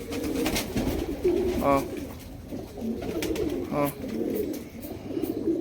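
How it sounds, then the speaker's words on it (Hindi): A flock of pigeons pecking at grain coos in soft, repeated throaty bursts nearby, while a person calls out to the birds in between. "आप देख सकते हैं लगभग सभी कबूतर चुन रहे हैं।"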